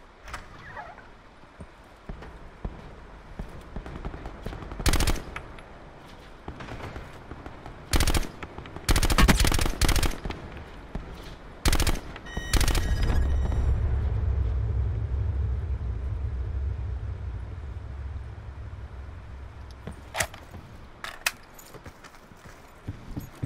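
Gunfire in Call of Duty Blackout, with sharp bursts of automatic fire and isolated loud shots scattered among quieter stretches, plus a low rumbling stretch midway.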